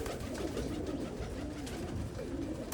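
Pigeons in a loft coo softly and continuously, a dense murmuring bed of overlapping low calls with no pauses.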